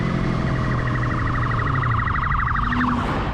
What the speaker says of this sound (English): But the sirens kept coming.